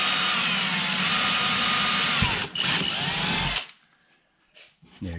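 Power drill boring a hole in a C7 Corvette aero kit panel, a loud steady whir for about three and a half seconds with a brief dip, then stopping abruptly into near silence.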